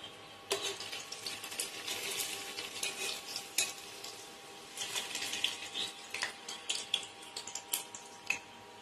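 A rice-flour snack frying in a pan, a soft continuous sizzle broken by repeated scraping and clicking strokes of a utensil as it is stirred, close and fairly quiet with no talk.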